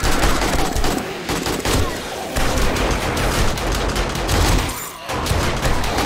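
Sustained AK rifle fire from the video game 7 Days To Die, dense rapid bursts of automatic shots filling the scene with brief gaps, loud and close, during a horde fight against giant spiders.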